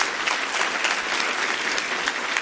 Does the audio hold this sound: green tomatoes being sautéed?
no